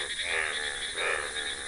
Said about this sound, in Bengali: হঠাৎ বৃষ্টিতে এভাবে ব্যাঙগুলো উপরে উঠে যায়, উঠে এভাবে ডাকাডাকি করে